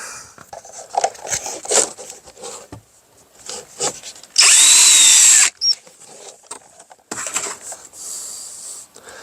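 Power drill driving a screw into wood siding during mobile home rot repair, a loud sustained whir lasting about a second, surrounded by scraping and handling noises, with no talk.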